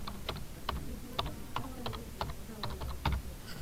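Keys clack on a computer keyboard in a quiet room, short irregular bursts of typing with brief pauses, close and soft, no voices.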